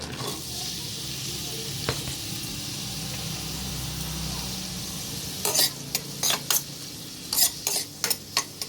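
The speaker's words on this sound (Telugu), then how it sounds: "ఇప్పుడు ఆనియన్స్ ఒక 10 మినిట్స్ బాగా ఫ్రై చేసుకోవాలి." Chopped onions fry in hot oil in a kadai for a brinjal and tomato curry, giving a steady close sizzle. In the second half come a series of sharp spoon-against-pan scrapes and clinks as they are stirred. No one speaks.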